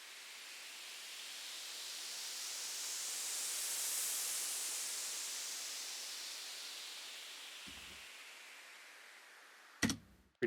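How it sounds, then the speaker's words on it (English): Two basic white noise sweeps are layered with reverb and EQ, a soft hiss that slowly rises to a peak and falls away. A low thunk and a brief sharp hit come near the end. "Just two really basic white noise sweeps that I layered together."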